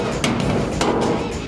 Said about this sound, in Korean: 컨테이너 수리반의 망치질은 끊이질 않는다